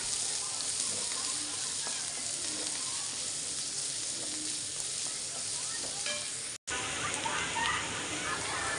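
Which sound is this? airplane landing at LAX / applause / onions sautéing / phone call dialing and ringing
onions sautéing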